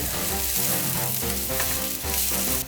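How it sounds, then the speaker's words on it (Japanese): Chopped onions with salt frying in a pan for a cold meat sauce spaghetti: a continuous sizzle sitting under loud, steady background music that runs throughout. "まずは玉ねぎを炒める。"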